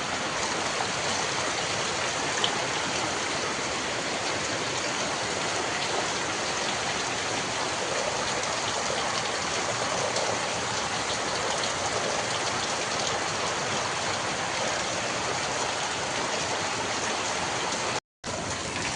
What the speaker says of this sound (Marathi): हे बघा कोकणातलं दृश्य आणि मुसळधार पाऊस